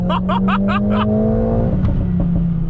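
A 421 hp 2020 Mercedes-AMG A45 S engine revs loudly and close, its pitch climbing and holding in a short, continuous burst.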